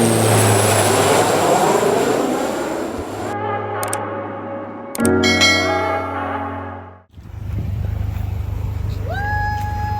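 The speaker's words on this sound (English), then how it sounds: "come with us as we travel from Dallas, Texas to Hawaii on an 8-hour flight across the Pacific." Steady airliner cabin drone fills a long flight from Dallas to Hawaii across the Pacific, a loud constant engine hum with chime tones and brief shifts partway through.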